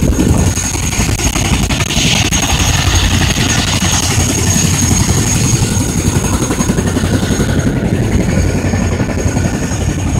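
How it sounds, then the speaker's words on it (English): A Chinook helicopter setting down amid strong rotor wash, giving a loud, steady, rumbling roar of engine and blades that persists unbroken throughout, with wind noise and no talking. "Chinook came down with pretty strong winds."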